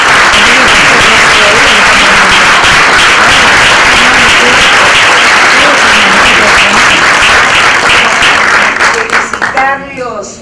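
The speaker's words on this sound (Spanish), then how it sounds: "aplaudirlos a ustedes" An audience at a gathering on integral sex education applauds loudly and steadily for about nine seconds, the clapping fading as a voice begins speaking near the end.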